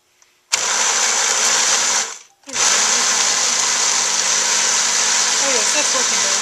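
A blender on its liquefy setting, blending soy milk, whirs loudly at high speed, cuts out briefly, then starts again and runs steadily with a bright, whining motor hum.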